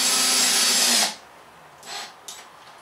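A power drill drives a screw to fasten a countertop in a teardrop trailer build, whirring loudly for about a second, then stopping, followed by two brief, quieter bursts.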